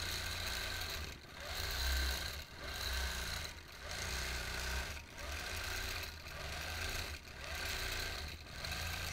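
A quilting machine runs steadily as it stitches a leaf pattern, its close mechanical whir pulsing in regular surges with brief dips about every second and a half, no voices heard.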